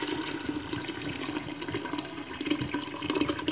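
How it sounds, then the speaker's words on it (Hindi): Water pours steadily into a pot of small pieces of cooked meat for Charsada-style kitchri, a continuous splashing, gushing flow close by with no speech. "अगेन इसमें पानी ऐड कर रही हूँ।"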